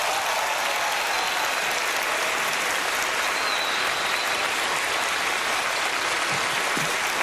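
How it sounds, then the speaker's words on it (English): A TV studio audience on a magic game show claps and cheers for Teller's entrance, a dense, sustained wash of applause that stays loud and even throughout, with no speech over it. "Round of applause for Teller as he comes out here"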